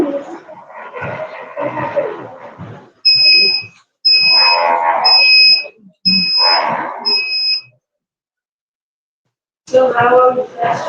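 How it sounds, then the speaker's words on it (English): A robot's communication buzzer sounds in a series of five short, evenly spaced electronic beeps, clear and moderately loud, while a person keeps talking over and between them. "the other system of communication with the robot, that is the buzzer"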